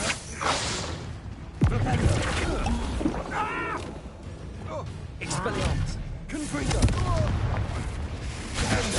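Spell blasts from a Harry Potter–style video game on PS5, heavy booming bursts over a dense, loud game soundscape, with a voice talking at intervals throughout.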